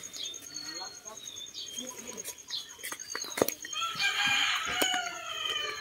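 Chickens cluck and squawk nearby while a rooster crows, with high bird calls and insect buzz in the background; a person speaks briefly.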